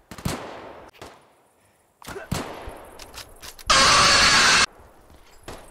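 AK rifle gunfire in the video game Deadside, several sharp separate shots spaced out over a few seconds, followed by a loud sustained burst, with little talk.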